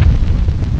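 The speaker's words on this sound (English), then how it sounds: "The sphere's interior began to glow, to flash, from a series of internal explosions." A short, loud, booming explosion from torpedoes striking a spacecraft: a dense, rumbling blast that fills the whole moment without a break.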